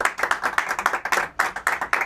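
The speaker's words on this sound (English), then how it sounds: "That was one of the bigger rounds of applause that a guest has gotten" A handful of studio audience members clap hard, sharp individual claps in a quick uneven rhythm for about two seconds, a small and sparse round of applause.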